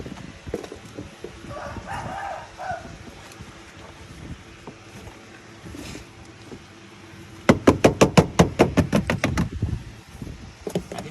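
A sound-deadening rubber door seal is tapped into place on a Honda Freed, a quick run of about a dozen sharp, close knocks toward the end after quieter handling noise.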